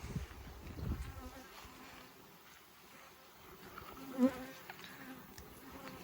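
Honey bees hum and buzz around hives on a hot summer day near a sunflower field, a faint, steady drone with a brief louder rustle near the start.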